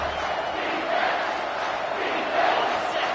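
A football stadium crowd roars on third down, a sustained, dense wall of cheering and shouting from a large audience that swells slightly without letting up.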